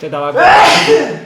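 A man smoking a pipe lets out one loud, close sneeze right after saying a few words.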